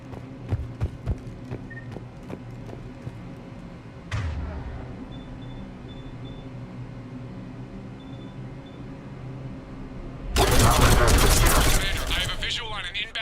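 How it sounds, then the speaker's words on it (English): Heavy cannon fire from a Cerberus cruiser in the video game Mass Effect 3, a burst of loud booming blasts late on after a stretch of quieter game hum and scattered impacts. "The cannon fire is clearing the way."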